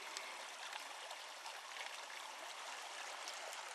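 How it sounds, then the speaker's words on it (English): A stream runs through woodland, its water rushing in a steady, close, full hiss with no break and no voices. "The streams are running."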